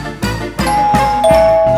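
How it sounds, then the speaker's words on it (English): Doorbell ringing at a house door, a loud close electronic chime with several struck tones and lingering ringing notes, no voices. "Let's ring the bell."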